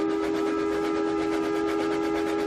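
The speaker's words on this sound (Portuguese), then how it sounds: "E o apito de um terceiro trem iluminado soou." A lit passenger train in a Portuguese audiobook of The Little Prince sounds one long, steady whistle, a single sustained tone held at even loudness throughout with no voices.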